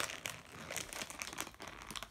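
Plastic slime packaging being pulled and torn open by hand, giving continuous close crinkling and crumpling with sharp rustling bursts throughout.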